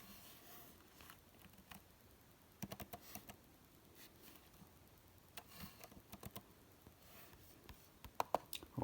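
Quiet, close typing on a computer keyboard, with irregular bursts of light key clicks and a few sharper taps near the end.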